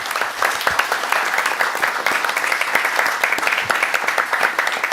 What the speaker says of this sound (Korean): 다 같이 박수를 치면서 오늘 세미나를 마무리하면 어떻겠습니까